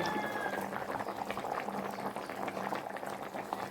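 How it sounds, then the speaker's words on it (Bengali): Fish curry with potato and eggplant boiling in a pot, a steady bubbling and gurgling simmer heard close up, with soft irregular pops throughout. "ঝোল ফুটে কম হয়ে গেল"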